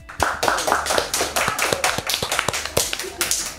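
Audience applause at the launch of the Sanggamara podcast, held by Pemdam Iskandar Muda: sharp, close hand claps rattle in a quick, uneven rhythm, loud and continuous for several seconds.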